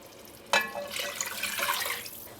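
Water pours into a cooking pot while preparing a cucuzza squash and potato stew, a splash at first and then a steady, moderately loud trickle with no talking.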